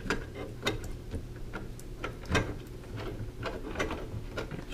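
Screws being driven into the frame of a Monoprice Maker Select 3D printer during assembly, a run of sharp close clicks and ticks in an uneven ratcheting rhythm, about a dozen over a few seconds.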